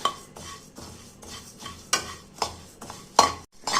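Coriander seeds roast dry in an iron kadai, a ladle scraping through them in rhythmic strokes with sharper metallic knocks against the pan, near and clear, nobody speaking.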